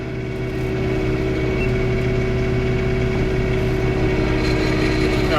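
A John Deere 3 Series tractor runs steadily in its mid transmission range while snow blowing, with a constant, close, droning engine hum that holds an even pitch throughout and no voices.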